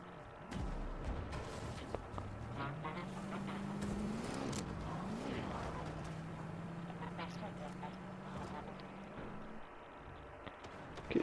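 Engine of a car driving in the video game Fortnite, a steady rising and falling motor hum under game noise and talking players, with scattered sharp impacts.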